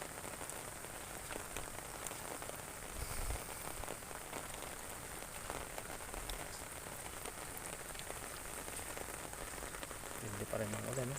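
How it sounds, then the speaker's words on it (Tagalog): Dense, steady downpour of heavy rain drumming on surfaces, constant hiss and patter throughout, with a few brief background sounds. "Ayan na naman po ang buhos ng ulan oh."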